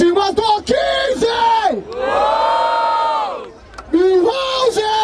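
A crowd at a freestyle rap battle in Barueri, São Paulo, cheers and shouts in loud bursts, with a sustained roar swelling and fading in the middle before more yelling breaks out.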